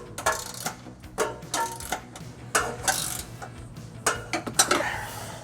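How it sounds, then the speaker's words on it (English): A 19mm wrench turns trailer hitch bolts on a 2022 Chevrolet Trax, giving quiet, irregular ratcheting clicks and metallic clinks in short bursts at close range. "I'm going to tighten these snug using a 19mm wrench"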